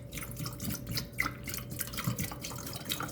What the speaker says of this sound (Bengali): এখন এই যে আমি ঠান্ডা পানি দিয়ে দিব